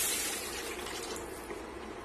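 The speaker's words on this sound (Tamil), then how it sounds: "தண்ணி இதுல சேர்த்திடலாம்." About half a litre of water pours into a pan of ginger and garlic for soup, producing a continuous bright splashing rush that holds steady throughout.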